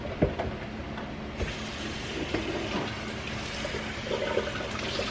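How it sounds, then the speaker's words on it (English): Running water rinsing a pressure canner lid in a kitchen during corn canning, a steady broadband splash and gurgle with a few knocks of the metal lid, moderately close, with no talking. "let me rinse this off"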